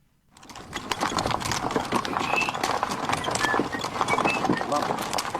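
Horse hooves clop in a dense, rapid patter from a horse's surroundings, a busy steady stream of hard knocks that runs throughout, with faint voices mixed in.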